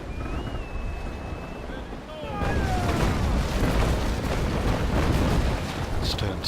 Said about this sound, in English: He's managed to get them with his stern cannons there